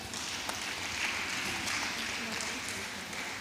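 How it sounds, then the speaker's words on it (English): Sustained applause from a crowd, steady and dense throughout, with no pauses or build-up. "A round of applause for her."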